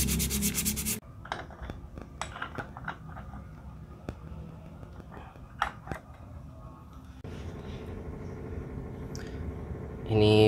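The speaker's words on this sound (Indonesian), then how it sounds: "Bagian ininya saya amplas pakai amplas kasar" A part of a Suzuki Skywave scooter's clutch is rubbed with coarse sandpaper in short, scratchy strokes, close and moderately loud, with pauses and some clinking between passes and a louder burst at the end.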